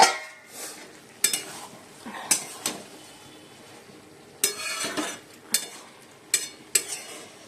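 Cabbage sizzling in a pan tempered with cumin, dry chili and bay leaf, with several sharp spatula scrapes and clanks against the pan breaking through a low, steady fry.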